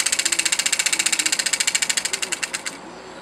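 Elmer's #8 Scotty model engine running at a quick, steady chuff of about twelve beats per second, close and fairly loud, then cutting out near the end and leaving a quiet room.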